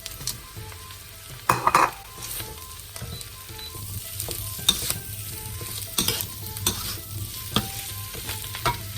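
Prawns with heads, shells and legs removed frying with onions in a pan, a steady sizzle broken by scraping stirs and occasional clinks of utensil against the pan, close and fairly loud.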